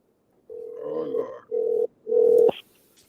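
Telephone call tones: a few sustained electronic beeps in sequence, steady pitched tones broken by short gaps, loud and close, ending in a brief click.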